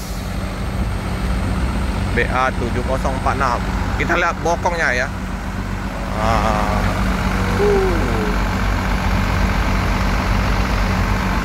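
A heavy diesel bus engine idles steadily with a low rumble throughout, while people talk over it close by.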